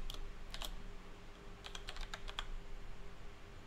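Someone types code on a computer keyboard: quiet, clustered key clicks in short irregular bursts over a faint steady hum, with no voices.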